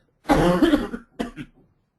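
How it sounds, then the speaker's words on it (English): A loud, harsh cough burst followed by two shorter coughs, close up, with no talking. "I don't mean to cough in your ears."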